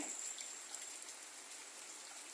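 Rain falling in a village on a morning, a faint, steady patter and hiss with no voices.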